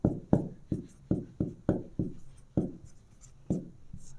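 Chalk or marker strokes tap and scrape across a classroom board in an irregular series of about a dozen crisp, close hits, each with a brief scratchy tail, with no talking over them.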